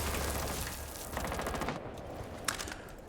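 Rapid, dense automatic gunfire in the video game Rainbow Six Siege, a continuous rattling burst with a few sharper cracks mixed in, loud and close throughout.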